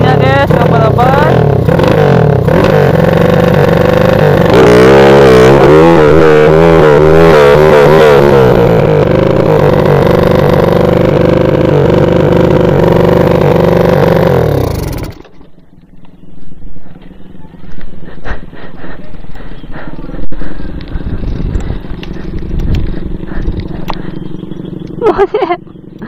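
A tuned-carburetor motorcycle engine revs hard and loudly for about fifteen seconds with rising and falling pitch, then cuts off abruptly, leaving quieter scattered handling sounds and faint background noise.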